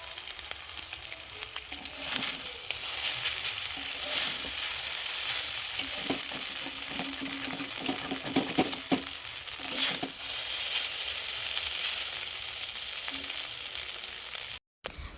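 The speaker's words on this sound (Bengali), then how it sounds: "চাউমিনটা বানিয়ে ফেলি" Chow mein sizzles and fries steadily in a pan, with intermittent scraping and stirring clatter from mid-clip onward, close and continuous, no voices.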